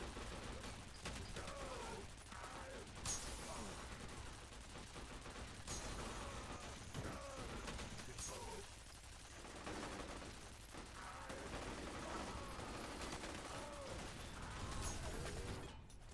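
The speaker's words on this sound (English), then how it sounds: "Just get on that turret." A mounted turret machine gun in F.E.A.R. Perseus Mandate fires in sustained rattling bursts amid clanking mechanisms and explosions, heard fairly faint and steady throughout a long stretch of combat.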